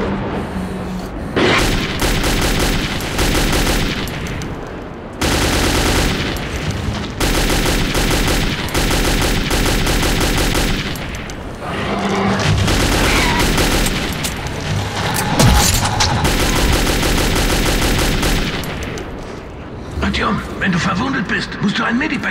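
Sustained weapon fire rattles in bursts through a firefight in Metro 2033, dense and loud for most of the stretch, broken by brief lulls, with dialogue spoken in German over it.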